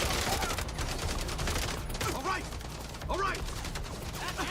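Sustained video game gunfire from called-in air support, a dense continuous fusillade filling the scene, with bursts of a voice speaking over it.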